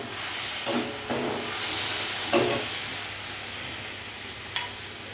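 A soft, steady frying hiss as spice paste mixed with water fries in a wok, broken by a few scraping stirs of a spoon, fairly quiet and close.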